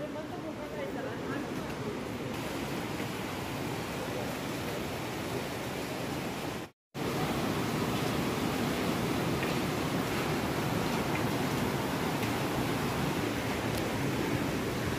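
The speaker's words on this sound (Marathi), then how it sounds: "ही बघा ही मंदाकिनी नदी आहे." The Mandakini river near Kedarnath rushes in a loud, continuous roar of fast-flowing water, broad and steady throughout, with a brief cut near the middle and a voice faintly present beneath.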